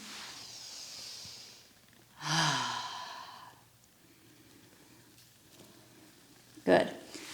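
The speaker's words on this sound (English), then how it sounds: "Breathing." Deep breathing during a gentle beginner yoga session: one long, audible exhale like a sigh, followed after a pause by a short sharp breath, both close to the microphone over quiet room tone.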